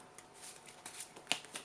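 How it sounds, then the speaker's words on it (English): A deck of playing cards being shuffled for a card game, producing soft riffling rustles and a few sharp flicks close by, fairly quiet, with no talking. "just shuffle that one more time"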